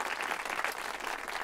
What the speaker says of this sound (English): That's a round of applause right there.